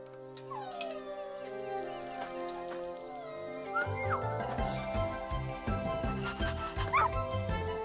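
A cartoon puppy in the Gardenscapes mobile game yips and barks repeatedly over light, tinkling game music, with a few whimpers, the barks growing denser and louder in the second half.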